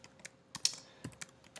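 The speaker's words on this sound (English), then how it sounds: "type in some R commands" Keys on a computer keyboard are tapped in short uneven bursts while R commands are entered, the clicks faint and close in a quiet room.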